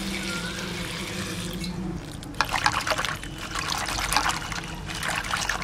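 Dried lote fish being rinsed and scrubbed in water, with splashing and trickling that grows busier and louder after the first couple of seconds, close up with no talk.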